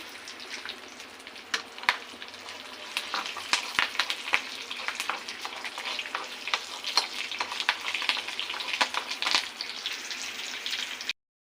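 Curry leaves and tempering spices fry in hot oil in a pan for a ridge gourd chutney, making a continuous close sizzle dotted with sharp crackles and pops until it cuts off abruptly.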